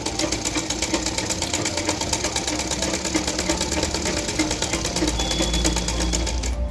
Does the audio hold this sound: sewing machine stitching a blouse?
yes